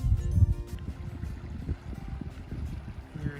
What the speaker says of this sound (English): Here is the beautiful little Cochetopa Creek flowing down from its headwaters up that way.